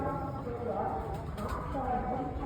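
Soft, low coos from a pair of Kalkora pigeons repeat faintly against a steady background hum, with no clear talking.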